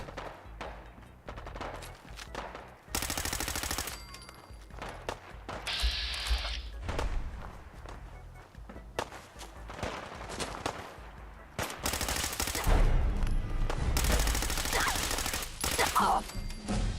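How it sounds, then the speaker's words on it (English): Gunfire at a caravan in a video game, with repeated bursts of automatic fire and single shots, loud and close, plus heavy thumps, running throughout with talk from players heard at points. "What are they shooting at? Caravan."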